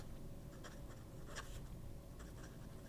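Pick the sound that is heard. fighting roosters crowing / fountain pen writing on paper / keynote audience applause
fountain pen writing on paper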